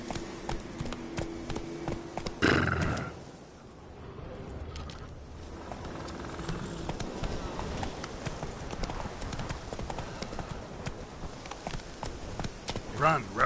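Roach, a horse in The Witcher 3 video game, gallops in a steady, rapid clip-clop of hooves running close by throughout, with a brief louder burst early on and game ambience underneath.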